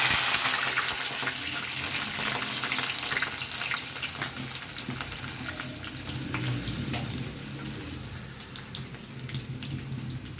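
Onion, garlic and curry leaves sauté in hot oil with popped mustard seeds for a brinjal fish curry, a dense steady hiss and sizzle that carries on throughout, close by with no talk.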